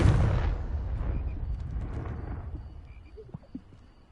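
A single Confringo fire spell explosion in Hogwarts Legacy opens with a loud, heavy boom that rumbles and fades over a few seconds, leaving faint ambient chirps and clicks.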